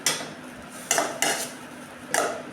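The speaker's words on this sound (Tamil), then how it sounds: "இந்த சாதத்தை போட்டு நல்லா கிளறிக்கலாம்" Rice being stirred into masala in a metal pan while making a tempered rice lunch-box dish; sharp scraping clinks of the spoon against the pan come in a few separate bursts, close and fairly loud, with no talking.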